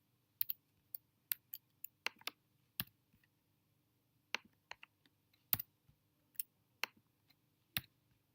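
Scattered keyboard key clicks while working in design software, sharp isolated taps and short bursts at irregular intervals, close and fairly quiet against a faint low hum.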